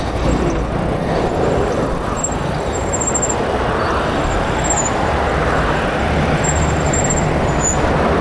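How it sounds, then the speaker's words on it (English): Road traffic in Thailand, a continuous broadband wash of passing vehicles and engine noise at moderate loudness, steady throughout with faint high tones flickering above. "Obviously there's traffic."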